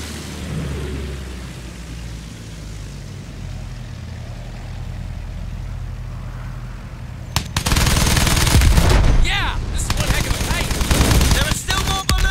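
In Battlefield 1, bursts of gunfire break out suddenly after a quieter low rumble: dense crackling machine-gun fire and sharp shots, loud and sustained to the end.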